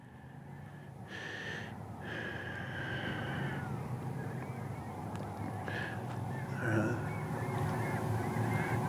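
Geese honk repeatedly in a loose flock over a lake, fairly close, over a steady whirring drone hum from a Mavic 2 Zoom drone that runs throughout.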